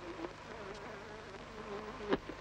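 Flies buzz indoors in a steady, wavering drone, close and moderately loud, with a brief knock near the end and no voices.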